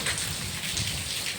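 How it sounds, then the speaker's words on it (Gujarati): Heavy rain, a thick, steady downpour roaring close by with a low rumble underneath. "ફૂલ વરસાદ છે"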